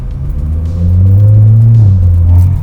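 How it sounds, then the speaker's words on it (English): A VW Polo GT with a conical air filter revs with a loud, deep droning rumble and audible induction roar, steady and close throughout with no talk. "You can hear the air induction."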